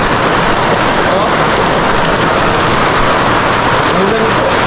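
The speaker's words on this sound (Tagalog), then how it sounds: "Pagmasdan ang ulan, di tayo makaalis." Steady rain falls outside a home's bedroom, a dense, even hiss that runs loud and unbroken throughout with no other clear sound over it.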